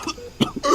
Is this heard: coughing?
yes